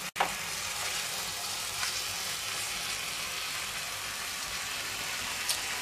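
Pork curry with sherry sizzles steadily in a hot pan, a loud continuous fry broken by a few scraping stirs of the spoon, with no talking.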